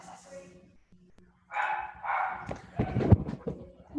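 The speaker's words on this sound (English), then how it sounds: "Who's barking? Oh, my dog." A dog barks repeatedly at someone at the front door, several excited barks in bursts at moderate distance, with faint background sounds.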